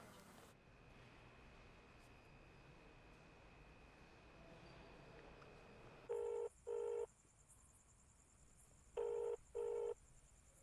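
After a quiet hiss, a phone ringback tone sounds in two pairs of short beeps, repeated twice with a pause between, and no one answers.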